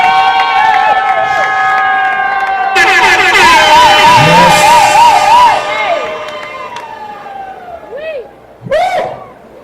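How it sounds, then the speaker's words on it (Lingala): A church congregation at a wedding service in Dallas, Texas, erupts in loud cheering, with rising and falling ululating whoops and shouts over a roaring crowd that tapers off toward the end. "Acclamons pour le Seigneur"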